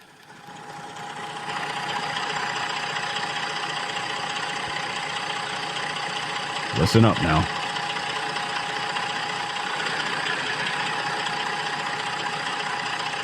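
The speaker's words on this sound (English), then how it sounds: "You tell me what kind of diesel engine this is." A steady diesel engine idles with a constant low rumble and knocking hum, with a short spoken remark over it midway.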